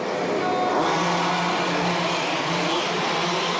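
Race cars at an indoor auto-cross event set off together, a loud continuous engine roar with rising revs echoing through the hall, steady for several seconds with no talk.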